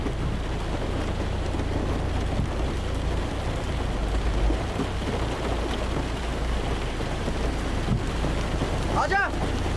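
Steady rain falls in a continuous broadband wash with a low rumble underneath, close and even throughout, and a brief whistling sweep near the end.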